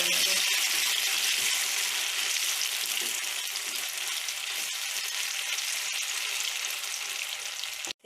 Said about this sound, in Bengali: এবার আমি সবগুলো ভালো করে মিক্স করে নেব।